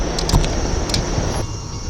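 Long Island Rail Road commuter train 1571, Huntington to Penn Station on the Port Jefferson Branch, rumbles past close by in a broad steady roar with clanks, fading near the end.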